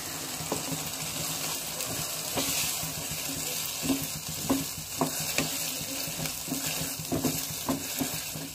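A paneer and green pea curry cooking in a pan sizzles steadily after water is added, with a constant frying hiss and irregular clinks of a spoon stirring it close by.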